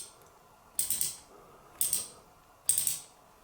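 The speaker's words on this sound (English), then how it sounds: "So I'm turning left to ratchet," Ratcheting keychain EDC multi-tool clicking as it tightens, three short bursts of crisp ratchet clicks about a second apart, close and fairly quiet.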